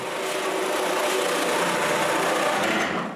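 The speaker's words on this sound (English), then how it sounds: "After drilling the inch holes," A power drill bores inch-wide holes into wooden cabinet doors for a water cabinet, giving a steady, continuous high whine that runs loud and close for about three seconds before cutting off.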